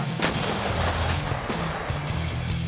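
Heavy 152 mm artillery gun booms, several sharp blasts spaced irregularly over a low rumbling background, loud and close.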